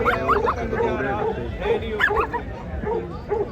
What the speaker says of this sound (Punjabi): ਬਾਈ ਕੁੱਤੇ ਕੁੱਤੇ ਨੇ